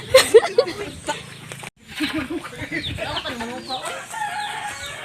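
A rural backyard chicken on a provincial farm crows and clucks close by in several bursts, with people talking over and between the calls.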